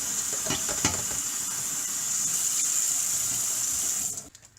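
Tap water runs steadily into a sink while cabbage is rinsed, a continuous close hiss that cuts off near the end.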